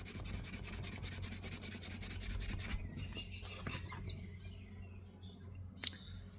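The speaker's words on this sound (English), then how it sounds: "I'm going to take some 80 grit and just go all over this really bad rusty stuff to get rid of the heavy rust" Coarse 80-grit sandpaper scrubs heavy rust off a metal blade in a steady close rasping rhythm for a few seconds, then gives way to quieter scattered scrapes and a faint bird call.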